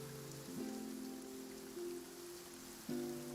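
Gentle rain patters steadily on an uncovered outdoor spot in Genshin Impact, a soft broadband hiss beneath low sustained music tones, with no voices.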